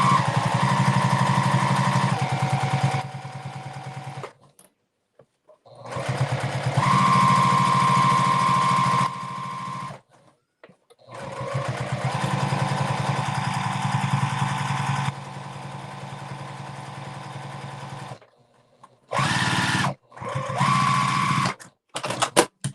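Brother VE-2200 embroidery machine straight stitching a key fob, a fast steady mechanical hum running in long stretches and stopping between passes, close by with no talk.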